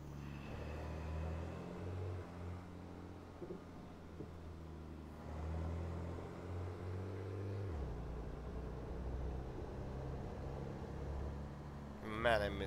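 A RAM 3500 truck engine idling and running in American Truck Simulator, a steady low rumble that shifts down in pitch about two-thirds of the way through before settling again.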